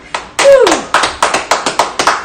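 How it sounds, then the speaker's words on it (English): A round of applause on a podcast: a loud opening burst of clapping after a short tap, then steady rhythmic hand claps, several per second, fairly close with no voices over them. "Give a round of applause for Amanda"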